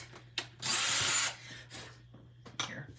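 A power drill drives into wood with one half-second whirring burst, followed by quieter scraping and short tool handling noises, close and fairly soft.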